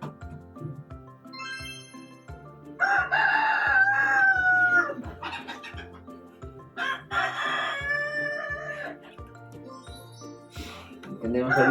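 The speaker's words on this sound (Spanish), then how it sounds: "¿Qué animal es? Un gallo." A rooster crows twice in loud, drawn-out calls, played as an animal-sound recognition exercise in an older-adult senses workshop, with clucking and other farm-animal noises around the crows.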